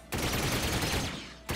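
Sustained burst of video-game gunfire from a shooting sequence in Ratchet & Clank, a dense rattling volley filling most of the moment, cutting off briefly before another shot resumes at the end.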